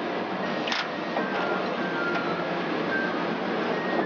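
A Sakurai 580 SDC sheetfed offset press mounting a straight printing plate onto its pins, a steady mechanical whir and hum with a few faint ticks and clicks, continuous and moderately loud.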